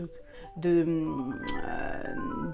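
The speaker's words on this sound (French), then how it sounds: "Désolée pour le téléphone, je n'ai pas arrêté la sonnerie." A mobile phone ringtone plays a brief tonal melody in a room, rising loudest near the start and then fading under a woman's continuing speech.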